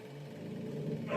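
Dogs bark and growl somewhere in the background, a low rough rumble running steadily through the moment with a brighter burst near the end and no talking over it.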